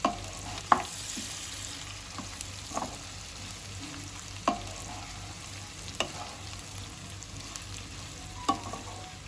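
Popat fish roe (gaboli) frying in a pan, giving a steady quiet sizzle with a few sharp stirring clicks and scrapes spaced across the stretch, no voices.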